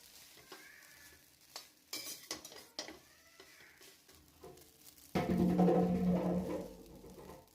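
Boiled noodles tossed with spices and salt in a pan on high flame: scattered clinks and scrapes of a utensil, then a sudden loud sizzle of frying toward the end.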